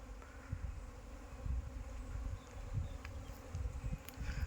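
Aggressive Apis cerana bees buzz in a dense, continuous swarm drone during a hive relocation into a box, close and steady with no voices.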